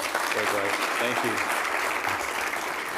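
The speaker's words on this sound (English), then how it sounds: "Let's give her another round of applause." Audience applause at an economic development launch event, a steady wash of clapping filling the room for a few seconds while someone speaks briefly over it.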